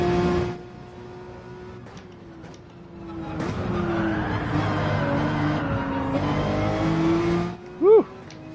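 Engine of a Porsche race car in the Gran Turismo 7 video game: a steady, loud engine drone that rises in pitch, with brief tire squeal at the end and no talking.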